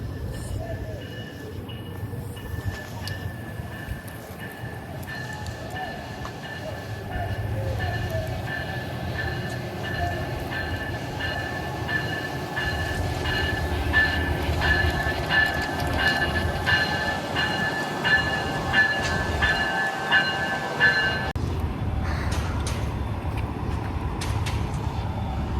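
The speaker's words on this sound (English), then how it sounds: "Amtrak 40 is now clear for departure" An Amtrak passenger train departs a station, its steady rumble and rolling wheel noise building and continuing for a long stretch with a sustained whine, heard nearby and loud, with people talking at times.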